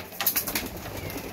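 A teddy pigeon arrives with a brief flurry of flapping wings, a quick rustling burst close by, lasting barely a second.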